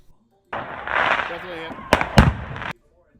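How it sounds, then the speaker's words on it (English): Fireworks bursting during a night show at ISM Raceway after a race, a continuous crackling roar with a few sharp louder pops near the end, heard under talk. "the fireworks continue to go off here in the background"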